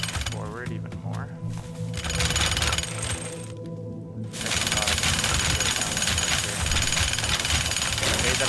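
Rapid, continuous jackhammer pounding breaks apart a structure in the video game Teardown, loud and steady with a brief dip midway, while a person talks over the hammering.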